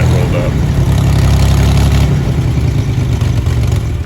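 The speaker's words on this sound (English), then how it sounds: "Listen to this Corvair." Chevrolet Corvair Yenko Stinger with an air-cooled flat-six engine running steadily at a car show, a loud continuous rumble with clattering texture and no clear revving.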